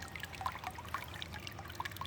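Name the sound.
water trickling in a garden pond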